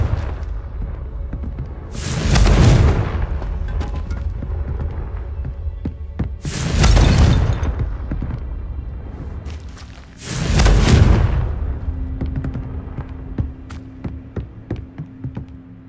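Three heavy booming blasts from the Confringo fire spell in the video game Hogwarts Legacy, spaced a few seconds apart, each a loud full-spectrum burst fading into a rumbling tail over a steady game background.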